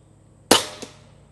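A single sharp, close crack from a JTS Airacuda Max air rifle fired at a paper target outdoors, followed by a fainter impact or echo a moment later, then quiet.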